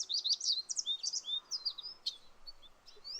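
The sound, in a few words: birds chirping and singing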